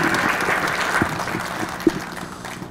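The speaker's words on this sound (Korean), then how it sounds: "멋진 토크쇼를 진행해 주실 두 분의 MC에게 여러분 박수 보내주시기 바랍니다" A talk concert audience applauds the two talk show hosts, a dense wash of clapping hands from a hall crowd, steady for a few seconds with a couple of sharper claps standing out.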